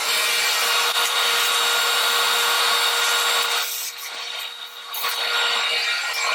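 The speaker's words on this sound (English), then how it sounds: "what I'm going to do is kick on the fan" A SawStop table saw's dust collection fan runs as a steady, loud broadband whoosh that fills the whole stretch, dipping briefly near the end before resuming, with no talking.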